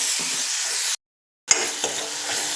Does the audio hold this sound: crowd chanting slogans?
no